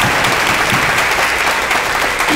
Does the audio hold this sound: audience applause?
yes